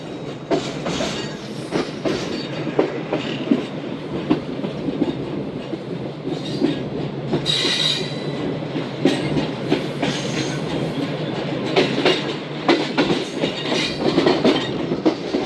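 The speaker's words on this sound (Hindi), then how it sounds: "मेन लाइन पर कंटेनर ट्रेन भी मौजूद थी 52-10 लोकोमोटिव के साथ" A container train hauled by a 52-10 locomotive passes on a Pakistani main line near Sadiqabad, wheels clattering steadily over rail joints with occasional squeals, loud and close for the whole stretch.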